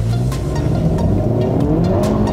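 A Hyundai Kona N is driven fast through an airfield course, its engine droning loud and close with a steady roar and tire noise throughout.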